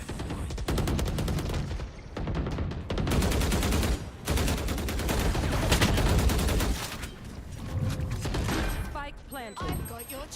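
Loud bursts of automatic and single-shot gunfire in a ranked online shooter game, dense volleys running almost continuously with short pauses, a voice briefly audible near the end.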